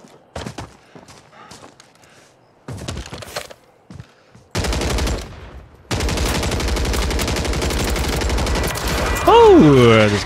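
Automatic weapon fire in the battle royale video game Warzone starts with scattered short bursts, then becomes sustained, loud rapid shooting with a rising whine near the end.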